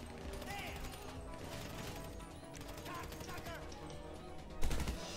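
Dense gunfire from GTA V rattles steadily at moderate volume with a heavier impact near the end, while players talk over it.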